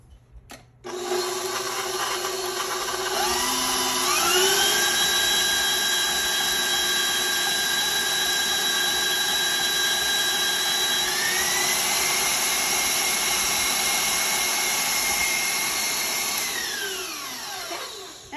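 A kitchen electric mixer beats butter for oatmeal cookie dough with a steady, close motor whine. The whine climbs in pitch as the mixer speeds up, holds, then winds down near the end. No one talks.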